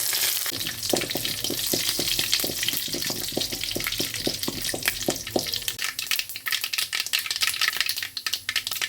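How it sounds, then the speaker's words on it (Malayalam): Roasted gram, mustard seeds and chilies fry in hot oil with a loud, steady sizzle close by. A run of regular light taps, like a spoon stirring, sits on top of the sizzle before it settles into a rougher crackle. "പൊട്ടുകടല അതുപോലെ ഒരു മൂത്ത് വരുമ്പോൾ അതിലേക്ക് കടുകും മുളകും ഇട്ട് കൊടുക്കണം."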